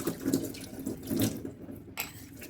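Running water from a tap splashes steadily into a sink as pooja utensils are rinsed, with a soft clatter of metal and a brief change in the flow near the end.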